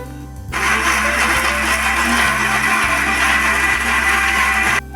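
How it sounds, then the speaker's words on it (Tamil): A mixer grinder grinds okra chutney into a paste, whirring loudly and steadily for several seconds, starting abruptly and cutting off at the end, with a dense grinding roar. "இதை மூடி போட்டு பேஸ்ட்டாக அரைச்சி எடுத்துகிட்டு வந்துடலாம்"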